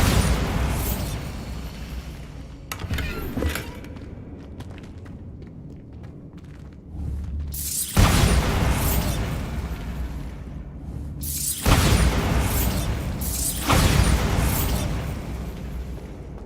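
A Bombarda spell explodes in the Hogwarts Legacy video game, giving loud booming bursts with crackling debris over a steady game ambience, in repeated blasts near 8, 12 and 14 seconds.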